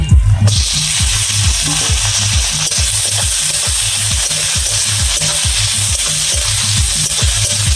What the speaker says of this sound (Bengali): পেঁয়াজটা আমার ভাজা হয়ে গেছে। এবার দিয়ে দেবো কেটে রাখা টমেটো।